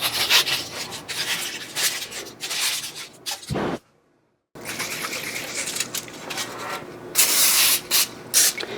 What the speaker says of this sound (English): Make sure you spray the sides of your foil too.